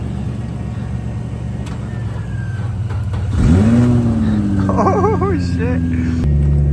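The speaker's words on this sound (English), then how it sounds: "I'm gonna move the truck now." A truck's engine cranks and catches partway through, rising sharply into a loud rev before settling into a rough, rumbling idle. A person exclaims near the start.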